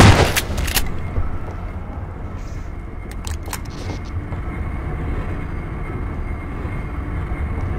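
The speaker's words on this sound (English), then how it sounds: "Freaking slow elevator." A slow-moving elevator in Half-Life 2 gives a steady low mechanical rumble and hum, following a few sharp clanks at the start, with faint knocks midway and no talking.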